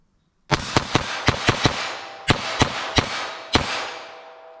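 A semi-automatic .22 LR rifle fires about eleven sharp, loud cracks in irregular bursts, each with a brief decaying echo, with a pause in the middle.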